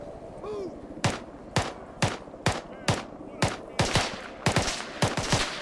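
Rapid gunfire from a war video game set in an alternate-history Second Korean War: about a dozen sharp, loud shots at an uneven, quickening pace over a steady rumbling background, with no talking.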